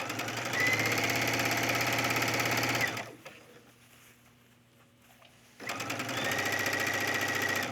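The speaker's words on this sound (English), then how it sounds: "It's a little hard to sew and twist and show you at the same time." A sewing machine runs in a fast, steady whir while stitching a gathered collar onto a top, pauses for a couple of seconds, then resumes stitching at close range.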